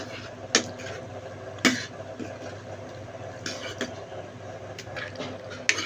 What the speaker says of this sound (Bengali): আমি হোয়াইট সসের সঙ্গে পাস্তাটা ভালো করে মিক্সড করে নিচ্ছি